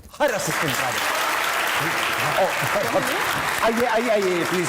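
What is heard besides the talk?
audience applause welcoming the director and his assistant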